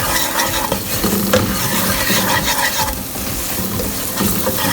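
A spoon scrapes and stirs sizzling chicken tikka masala with coriander, cumin, Kashmiri chili and garam masala in a hot pan, giving a continuous close frying crackle with no one talking.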